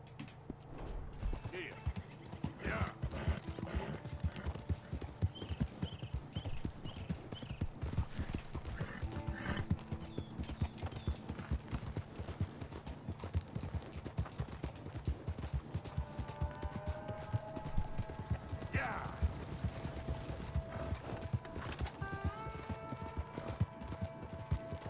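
Steady clip-clop of horse hooves as a rider travels toward town in Red Dead Redemption 2, a continuous rhythmic trot with occasional creaks, a brief neigh and someone talking at times over it.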